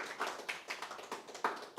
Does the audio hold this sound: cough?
no